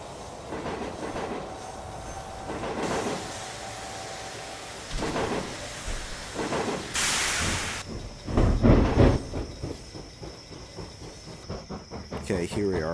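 A freight train in the railroad game High Iron rolls and couples to a caboose, with clattering wheels, a sharp air hiss, squealing and rhythmic clunks building in the foreground, heard alone without talk.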